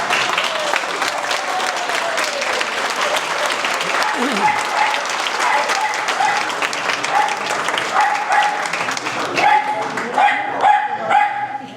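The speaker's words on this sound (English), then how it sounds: "Can you just stand up and give them lads a clap?" Crowd applause fills the room for a dozen seconds, steady and dense, with a dog barking and yipping intermittently through it and a few voices mixed in.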